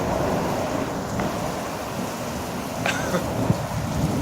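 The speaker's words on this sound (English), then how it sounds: "This is the most powerful storm I've seen in like 3 years." A powerful supercell thunderstorm with hail and close lightning strikes: steady heavy rain hiss fills the scene, with a low rumble and a couple of sharp cracks near the end.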